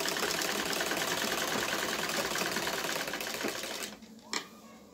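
Sewing machine stitching the fabric shoulder pieces of a fatua, a close steady rapid whirring hum that runs for several seconds, then stops, followed by a single faint clunk.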